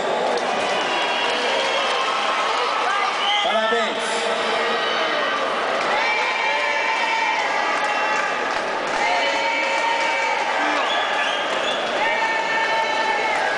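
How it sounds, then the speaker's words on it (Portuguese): Applause and cheering from an audience at the final of a Corinthians singing contest, honouring the winners, a dense continuous crowd roar heard under an amplified announcer's voice and music. "Uma salva de palmas para eles."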